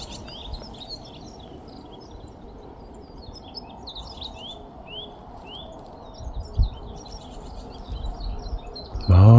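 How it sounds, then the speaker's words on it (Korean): Wild birds sing in the morning on a windy mountain ridge in March, several bright chirps and short calls repeating at moderate distance over a low wind rumble, with a louder knock at the end; no distinct cuckoo call stands out. "아침 새소리가 참 좋습니다."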